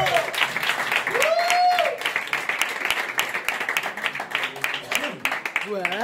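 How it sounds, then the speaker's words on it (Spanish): Audience applause at a live children's storytelling show, steady clapping throughout with a voice speaking and singing over it. "¡Anima tú! Un aplauso."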